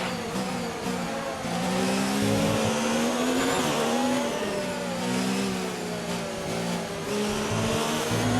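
Formula 1 race car engine in the F1 2019 racing game revs loudly and continuously, its pitch rising and falling through gear changes with a sustained high whine and occasional tyre squeal, with no talking.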